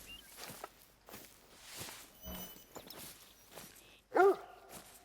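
Dog barking in the Hunter: Call of the Wild video game, one short loud bark near the end standing out from soft footsteps and rustling ambience.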